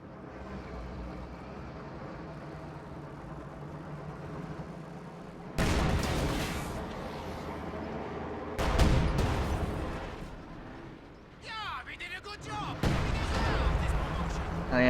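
Light field howitzer artillery fires in a World War II strategy video game, heard as several loud, booming blasts with rumbling tails, coming after a stretch of low background battle noise.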